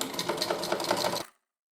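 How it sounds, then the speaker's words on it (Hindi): A sewing machine stitches a blanket pieced from old pants and shirts, a close, rapid rhythmic mechanical whirr and clatter that runs for about a second and then stops abruptly. "इस पे पूरे पे सिलाई लगा ली।"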